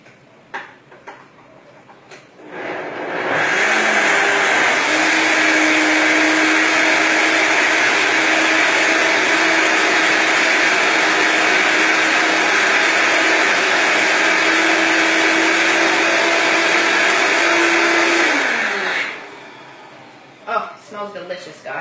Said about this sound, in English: this Vitamix isn't the newest. I think the motor's kind of going on it